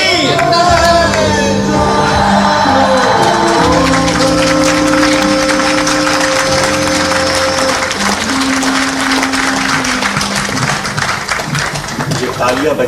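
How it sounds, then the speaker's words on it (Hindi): An audience in Raipur applauds at a birth-anniversary tribute event for Padma Shri Dr. Surendra Dubey. Dense, loud clapping runs throughout, mixed with sustained tonal sounds and a voice. "ये तालियां बजा रही हैं आपके जुड़ाव को"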